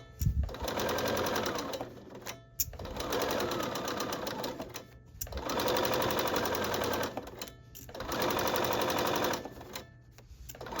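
Sewing machine stitching in rapid mechanical bursts, four runs of steady whirring chatter separated by brief pauses, close and clear.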